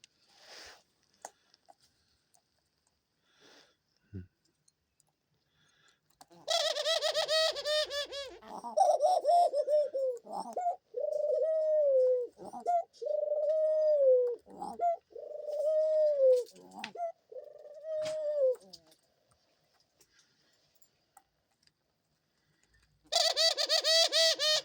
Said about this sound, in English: Absolutely love the behaviour the doves have with each other.